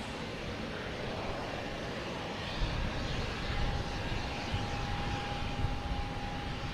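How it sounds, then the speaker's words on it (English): A Swoop airliner arriving from Vancouver approaches to land at Boston Logan, its engine roar a broad steady rumble that swells slightly partway through, with a thin high whine running across the middle. "we have a WestJet coming in"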